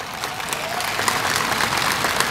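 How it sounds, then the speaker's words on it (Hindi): A crowd at a protest sit-in in Nagpur against the NRC, CAA and NPR breaks into dense, continuous clapping, a steady crackling wash that holds at an even loudness from start to finish with no voices over it. "एक एक बच्चा तालियों से स्वागत करे शेर का।"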